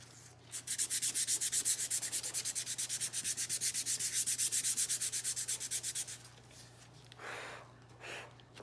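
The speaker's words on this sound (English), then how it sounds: "Before you do your stencil, you have to sand it. Don't push too hard." Light hand sanding of a wooden skateboard deck: a steady run of quick, even back-and-forth rasping strokes, close and clear, then a pause and a soft puff of breath near the end.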